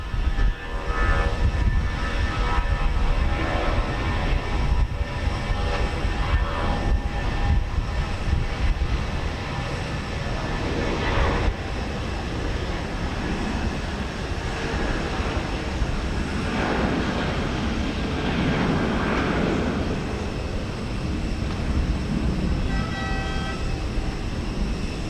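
Volaris Airbus A320 jet at Houston Intercontinental, a loud continuous engine roar with broadband rumble that swells and shifts steadily across the whole stretch, heard from an airport vantage point without talk.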